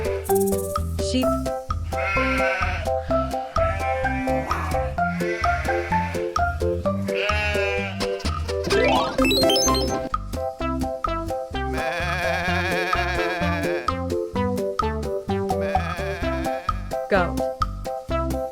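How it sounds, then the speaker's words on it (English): Sheep bleat over a bright, continuous backing of children's music on a farm-animal learning track, the wavering calls rising above the melody several times. "Sheep."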